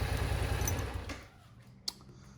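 A five-year-old 2015 Yamaha FZ-07 motorcycle with 15,000 miles, running after a tune-up with a new air filter and spark plugs. Its rapid, even engine chatter is strong at first, then fades away, ending with one brief sharp click.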